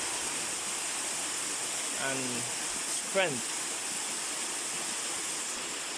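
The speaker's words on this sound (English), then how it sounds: "the water comes out from the ground" Mountain spring water welling up from holes in the ground, a steady close rushing wash of flowing water throughout, with a brief spoken voice over it partway through.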